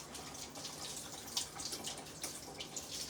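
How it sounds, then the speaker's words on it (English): Hands being washed under a running kitchen tap while cooking, a steady close splash and trickle of water with small bursts of splashing throughout, no talking. "Let me wash my hands really, really quick."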